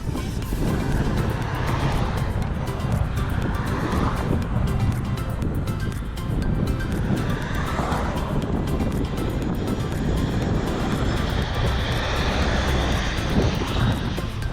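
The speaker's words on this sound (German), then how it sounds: "Da landet ein Flugzeug. Gleich direkt neben uns." A loud, steady jet engine roar from a landing airplane fills the scene continuously, with a broad rushing drone that swells slightly as the aircraft passes close by, in Montenegro.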